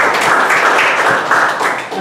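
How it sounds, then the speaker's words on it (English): Applause from a Toastmasters meeting audience for the prepared speakers and their evaluators, a dense, even wash of clapping held close and steady throughout. "Let us do another round of applause for them."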